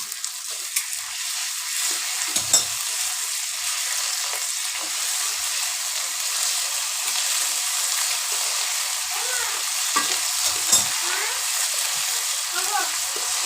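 A paste of cumin, ginger and onion, ground on a grinding stone, fries in a pan of browned onions with a steady loud sizzle, broken by occasional scraping stirs and clinks.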